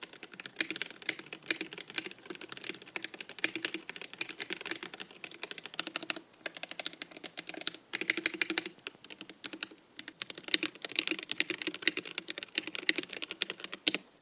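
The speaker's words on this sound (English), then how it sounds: "Here's a quick sound test of what these magnetic switches" Someone types on a MelGeek MADE68 Pro keyboard with magnetic switches, producing rapid, fairly quiet, soft clacking keystrokes in a steady stream with brief pauses, close up and with no talking.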